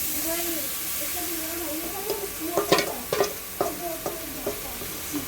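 Taro stem mixed with mustard oil tipped into a hot wok, giving a steady sizzle with a string of sharp scraping stir strokes near the end, and a voice talking over the early part.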